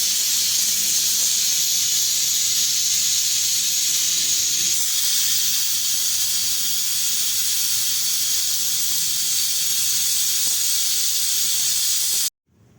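Steady loud hiss of steam venting from a pressure cooker cooking harissa, a continuous whistling rush that holds nearly unchanged for about twelve seconds before cutting off abruptly.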